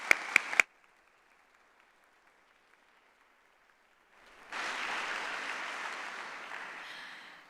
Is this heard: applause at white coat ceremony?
yes